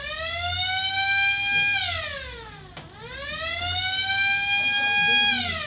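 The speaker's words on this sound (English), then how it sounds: "turned on the lights and sirens" Police car siren with a loud wailing tone that holds steady, sweeps down, then climbs back up again, sounding close and continuous.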